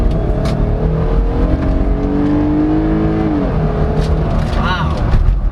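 A 2023 Jeep Gladiator Overland's Pentastar V6 accelerates from inside the cabin, a steady engine drone rising in pitch as it revs, then a brief dip where it shifts, continuing loud and constant under faint road noise.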